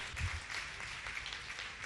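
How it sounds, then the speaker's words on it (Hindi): Crowd applause at a Digambar Jain religious gathering, a dense steady wash of clapping that stays fairly quiet and even throughout, with no voices over it. "जोरदार जोरदार जोरदार ताली बजाकर उनके भावों की अनुमोदना करें"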